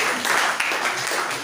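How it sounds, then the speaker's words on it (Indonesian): A classroom of students claps for a presenting group during a school project session, a short, dense burst of applause at close range. "tepuk tangan untuk kelompok 1"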